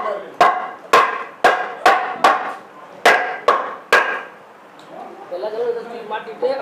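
Hammer blows on a window grill frame being fitted into a window opening, about eight sharp, loud strikes in a steady rhythm, followed by a quieter stretch with faint voices talking.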